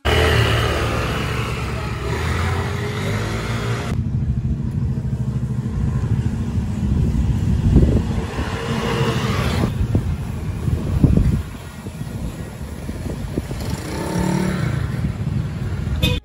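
A Yamaha Aerox scooter engine, fixed for a noisy knocking fault, hums steadily close up on a test ride, rising and falling as it rides, with wind rushing across the microphone throughout.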